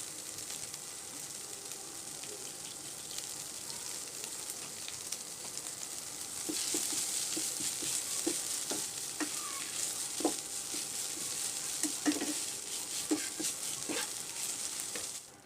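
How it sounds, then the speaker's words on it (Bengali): Drumstick (moringa) leaves fry in oil with salt in a pan, giving a steady, soft sizzle that grows louder midway, with occasional clicks and scrapes of stirring and no talk. "সজনে পাতা কিন্তু আমি অনেক সময় ধরে ভেজে নিচ্ছি।"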